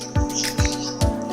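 A small pet bird in a cage gives three short, sharp chirps at a steady pace, close by over a faint background hum.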